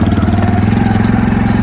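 A six-wheel Honda 300 ATV engine runs loud and close with a steady, throbbing low mechanical drone and faint clatter as it sets off.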